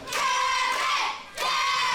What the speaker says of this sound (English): The crowd here in the PWA arena starts to rally behind